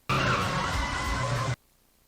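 A small car skids in a movie scene, a single sustained screech of about a second and a half, loud and close, ending abruptly into quiet.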